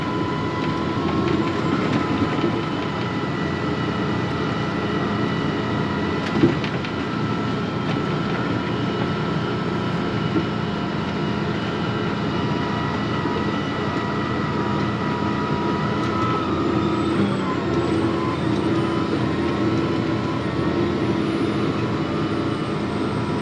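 A farm tractor pulling a manure spreader drives into a field, a steady low engine drone and rumbling wheels holding an even level throughout with no talking.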